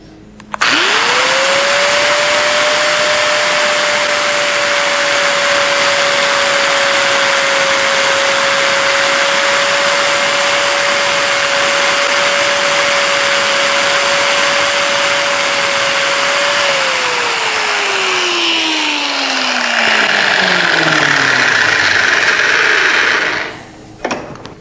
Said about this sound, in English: So now you cut on the tape line, you cut as square as you can down the center of the tape